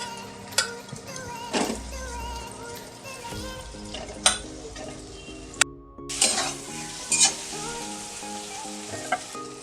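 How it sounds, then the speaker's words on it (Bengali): Tomato and previously fried potato are added to hot oil in a pan, sizzling and frying steadily with intermittent stirring scrapes and clinks of a spoon against the pan. "এবার টমেটো দিয়ে দিচ্ছি। আর দিয়ে দিচ্ছি ভেজে রাখা আলু।"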